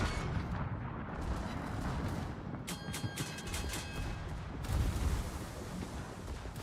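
Distant naval gunfire from battleships in World of Warships, rumbling salvos and booms layered over a constant roar of ocean and engine noise, with no talking.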